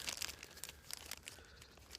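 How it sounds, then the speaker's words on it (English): A very lightweight plastic bag holding a fire kit crinkles and crackles up close as it is handled, giving irregular rustling bursts throughout with no talking. "I've got my fire kit, all contained in a very lightweight, super tactical plastic bag."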